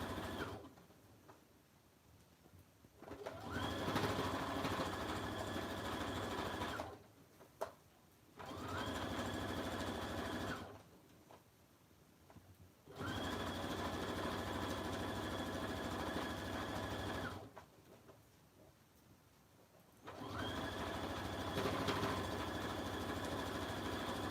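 A sewing machine stitches around an oven mitt in four bursts of steady, buzzing running separated by short pauses, fairly close and with no one talking.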